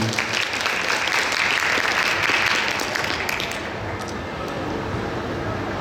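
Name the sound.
audience applause at a theatre talk concert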